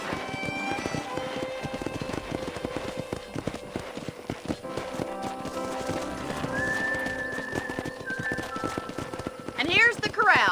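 Horses at a ranch corral in Red Dead Redemption clip-clop steadily and close, a neigh rising near the end, while people talk throughout.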